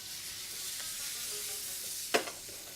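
Onions frying in a pan with oil, butter and herbs, a steady soft sizzle with a sharp clatter of a utensil against the pan near the end.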